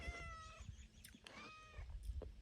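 A cat meows several times close by, short tonal cries in a quick series, sounding faint over low background rumble.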